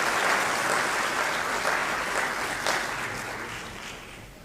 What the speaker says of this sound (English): Let's give her a warm round of applause as she makes her way to the stage